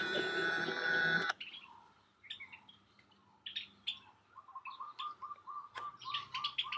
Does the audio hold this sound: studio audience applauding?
no